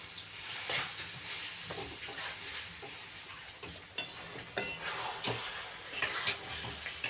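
Mutton for a spicy mutton and potato curry is stirred and fried down in a pan, giving a soft, continuous sizzle broken by occasional scraping strokes, with no speech.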